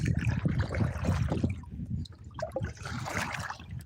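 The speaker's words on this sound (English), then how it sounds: "there we are, kayaking" A kayak paddles through lake water, with repeated close sloshing and trickling strokes that rise and fall in a loose rhythm.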